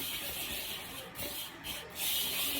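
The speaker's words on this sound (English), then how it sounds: "I'm going to just use my whisk. And I'm going to whisk up the" Italian dressing mix being whisked together with brown sugar in a bowl, a steady close scraping, hissing rasp that swells and grows louder toward the end.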